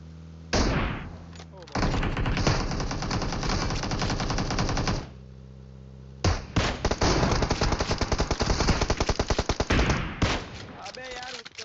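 Bursts of automatic gunfire from a K9 gun in PUBG Mobile, loud and close, a short volley and then a long stretch of rapid rattling shots after a brief pause, ending in a run of separate cracks.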